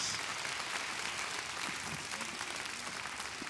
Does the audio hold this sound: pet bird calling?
no